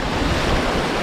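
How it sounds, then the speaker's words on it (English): Ocean waves crashing with a continuous heavy roar of surf and wind, loud and close with no break, filling the whole moment. "These waves are low key crazy right now"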